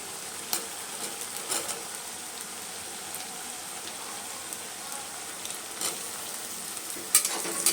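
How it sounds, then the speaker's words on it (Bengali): Chopped onions nearly browned, then tomato, fry in a pan for chicken curry, giving a soft, steady crackle with scattered louder pops and stirring scrapes. No one speaks. "দেখো পেঁয়াজ কিন্তু আমার প্রায় ভাজা ভাজা হয়ে এসছে, তো আমি এখন টমেটো দিয়ে দেবো।"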